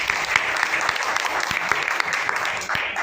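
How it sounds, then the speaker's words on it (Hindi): An audience at a speaking event breaks into loud, sustained applause, with many hands clapping densely and steadily throughout the whole stretch and no speech over it. "एक जोरदार ताली बजा सकते हैं"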